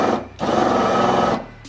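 Power drill whirring steadily while boring a hole during a Peugeot 205 rally car rear beam install, a short burst then a sustained close, loud grinding whine of about a second before it spins down.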